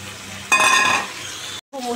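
Potatoes fry in a pan for a potato and cauliflower curry, giving a close sizzle that swells briefly midway, followed by a short clatter and a sharp cut.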